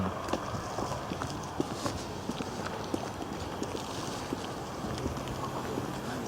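Hooves clip-clop close by from horses near a night-time spot in Palavas-les-Flots, a steady stream of soft irregular knocks over a noisy, windy background lasting several seconds.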